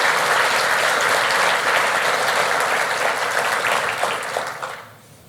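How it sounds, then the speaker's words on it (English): A city audience at a mayor's State of the City address applauds those involved in a neighborhood project, a dense, loud wash of clapping that holds steady and then fades out. "Let's applaud anybody who's involved in the Good Neighbor Project."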